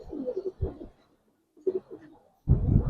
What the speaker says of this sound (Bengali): সবজি একটা কালারিং কবুতর